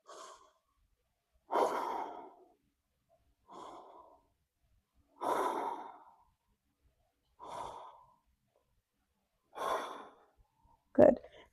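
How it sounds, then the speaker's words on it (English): Slow, deep breaths taken while holding a yoga core exercise: six long, soft breaths drawn close to the listener at a steady, unhurried rhythm, ending in one short, sharper intake of breath. "Let's take a breath here."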